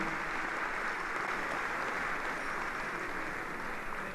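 A ceremony audience in Gandhinagar applauds a singer, a sustained even wash of many hands clapping that holds steady for the whole stretch with no voices over it.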